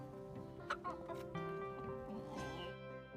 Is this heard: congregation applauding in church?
no